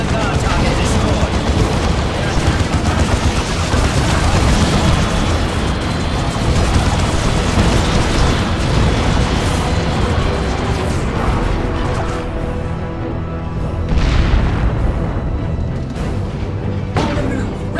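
Air support strike in Dawn of War 2: Retribution, a dense barrage of loud booming explosions and crackling impacts rolling almost continuously over the battlefield, easing briefly then returning near the end.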